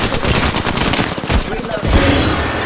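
Rapid automatic gunfire crackles through a video game shootout in Apex Legends, dense bursts with a few heavier booms, loud and close throughout.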